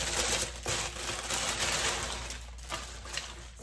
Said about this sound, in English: It's loud when I unwrap it.